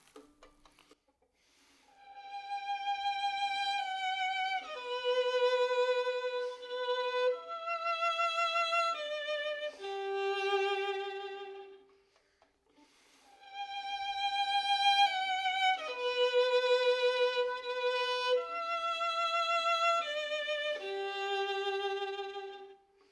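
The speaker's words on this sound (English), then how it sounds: "I can play a passage two different ways, once with wrist vibrato on the pinky and once with arm vibrato on the pinky" Violin passage played twice with pinky vibrato, first with the wrist and then with the arm, each a slow singing melody of sustained, gently wavering notes, close and clear with a pause between the takes.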